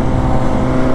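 Honda CBR 600 motorcycle on a test ride, its engine droning loud and steady throughout the second, with a strong low hum and no talking over it.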